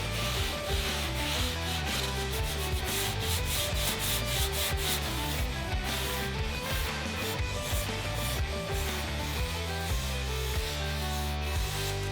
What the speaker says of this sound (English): So we sand the whole surface to smooth out the texture.